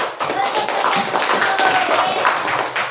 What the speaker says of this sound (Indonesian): Tepuk tangan kepada Bunga dengan Marin.